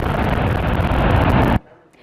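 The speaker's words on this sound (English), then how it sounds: "This huge explosion and fire rocks a refinery in El Segundo." A huge explosion and fire at the Chevron refinery in El Segundo makes a loud, sustained roaring blast that cuts off abruptly, leaving a faint rumbling tail.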